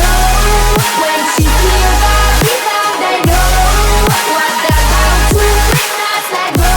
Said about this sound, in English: which is a simple but effective old school melodic dubstep 2016 drop